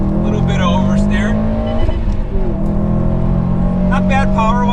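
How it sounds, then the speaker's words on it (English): A Subaru WRX STI driven hard on a winding road, its engine droning loudly and steadily with a few sharp exhaust backfire pops breaking through, while a person talks over the engine. "Here's some backfires coming out of the exhaust."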